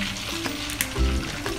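A pot of turmeric and coconut milk sauce with garlic and shallots is stirred, a short bubbling, scraping sizzle with a few clinks of the spoon, close up and without speech.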